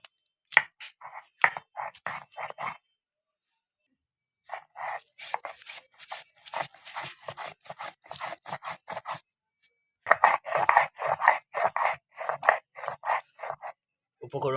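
Chopped ginger and garlic with a little water are ground into paste: quick rhythmic scraping and crunching strokes in close bursts, broken by a few short pauses, with no talking.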